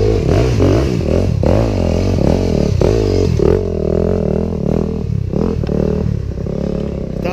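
A trail motorcycle on a hard dirt trail at Kaloré, Paraná revs in repeated surging bursts with clattering and scraping. It is loud and close, then fades to a rougher, lower drone.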